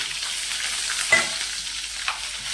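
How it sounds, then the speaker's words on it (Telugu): Curry leaves crackling in a small amount of hot oil for a tempering, a steady loud sizzle with a sharp burst of spitting as they hit the oil and a smaller pop afterwards. "ఇప్పుడు దీన్ని చక్కగా మనం కొద్ది నూనె వేసుకొని తాలింపు పెట్టేసుకుందాం."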